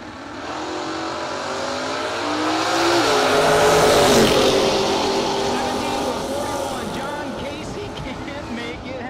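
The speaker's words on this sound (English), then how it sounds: "Beautiful 1970 Chevrolet Chevelle on a 650." A 1970 Chevrolet Chevelle makes a drag racing pass at a no-box event in Ashland, Ohio, its loud engine revving and climbing through gears and peaking midway before fading. An announcer talks over the run.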